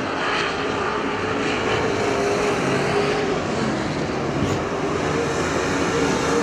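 Super stock race cars roar around the Perris Auto Speedway oval in a main event, a continuous loud, dense engine drone with slight swells as the cars pass, heard without talk.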